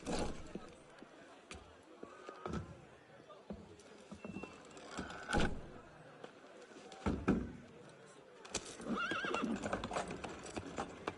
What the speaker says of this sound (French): Les chevaux doivent être étrillés.